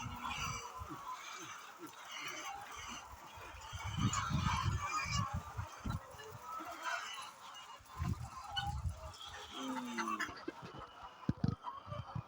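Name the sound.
chickens clucking on a poultry farm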